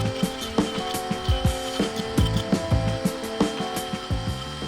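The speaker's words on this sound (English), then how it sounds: "I'll Dremel it with a small drum" A Dremel with a small sanding drum works the edges of a wooden triceratops scroll-saw puzzle toy, giving a close, buzzing high whine broken by repeated knocks and grinding bursts in an uneven rhythm.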